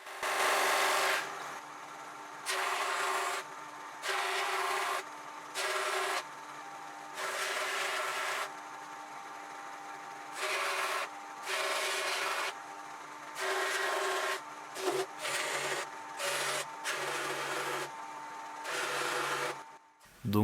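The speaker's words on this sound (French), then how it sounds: "c'est du cordage en fait entrelacé sur une roue et ça permet de faire des traits encore moins gros" A carbon fibre knife blade being brushed on a rotating wheel of interlaced cord, giving a series of loud raspy rubbing bursts, each a second or two long, separated by short pauses and heard close up with no talk.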